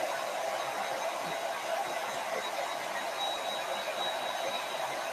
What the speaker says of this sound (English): I think my friend Michelle, she was lending me her hair dryer